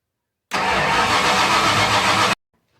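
A cammed 351 Windsor V8 fires up for the first time, a loud, close burst of engine noise that catches and roars for about two seconds before cutting off abruptly into silence.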